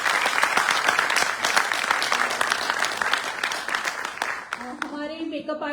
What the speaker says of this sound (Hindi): तो एक बार जोरदार तालियों से फिर से स्वागत करें सभी का।